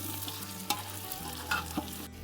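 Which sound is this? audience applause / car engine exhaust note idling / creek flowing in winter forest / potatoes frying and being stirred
potatoes frying and being stirred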